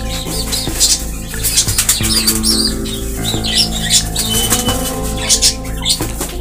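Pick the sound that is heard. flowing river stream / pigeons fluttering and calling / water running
pigeons fluttering and calling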